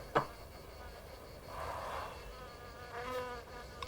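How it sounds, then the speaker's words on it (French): A fly buzzes faintly in a quiet scene from the film La neuvième porte, two soft swelling hums a second apart after a brief click, no voices. "juste avant qu'on dise le mot Lucifer, on entend une mouche voler"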